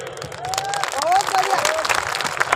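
Audience applause at a political rally, a burst of clapping from the crowd mixed with cheering voices and someone speaking over it.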